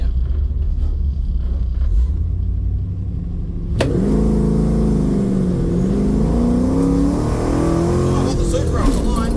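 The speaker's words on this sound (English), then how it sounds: "let's see how we go in second gear launches with the smaller tyres now" A drag car with smaller tyres launches hard in second gear: steady engine idle rumble, then a sudden loud burst as revs climb and hold in a rising roar, close and dominant throughout.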